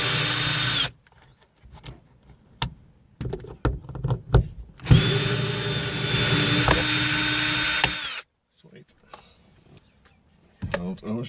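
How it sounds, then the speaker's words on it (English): Power drill backing long fasteners out of a Toyota Corolla interior, a loud whirring motor in two sustained runs with a pitch shift in the middle, separated by clicks, knocks and handling noise. "And so I'm just going to use a drill"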